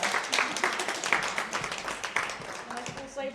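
Audience applause at the close of a talk, steady clapping from a modest crowd at moderate distance, fairly soft and continuous throughout, with some voices mixed in.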